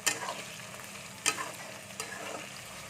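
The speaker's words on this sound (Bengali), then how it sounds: "ভেন্ডিটাকে পুরো ভালো করে ভাজতে হবে, পুরো মচমচে করে" Okra frying in a pan until crispy, a steady close sizzle broken by a few sharp stirring scrapes, with no voices.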